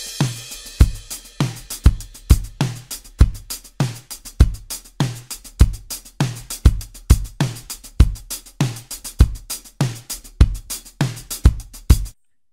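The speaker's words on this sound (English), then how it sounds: "So altogether, our raw drums sound like this." Raw, unmixed indie pop drum kit recorded in a studio, played as a steady groove of punchy kicks and snappy snares with cymbal wash, roughly a dozen seconds of loud, evenly repeating beats heard alone without voices.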